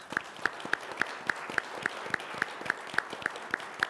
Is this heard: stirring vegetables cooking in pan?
no